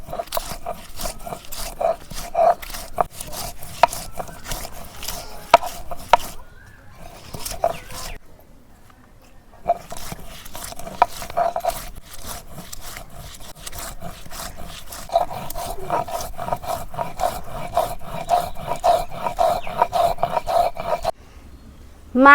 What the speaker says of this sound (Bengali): রসুন, আদা, পেঁয়াজ ছিলে নিয়ে এখন শিলপাটার মধ্যে বাইরে নিতেছি।